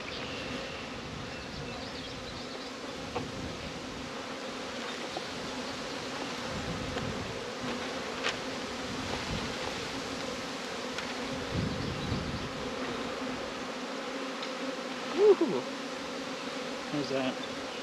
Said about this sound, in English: I am now officially wearing a bee beard of how many bees?